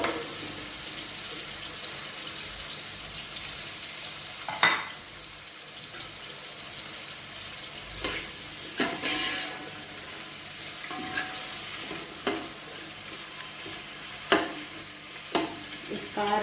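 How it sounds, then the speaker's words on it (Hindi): Onions fry in oil in a large pot for beef pulao with a steady sizzle, broken by scraping spoon strokes and clanks as they are stirred, heard close up with no talking. "अब इसमें डालूंगी प्याज"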